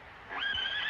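A chariot-race horse gives one close, loud neigh, a brief rising whinny that holds to the end over low background noise.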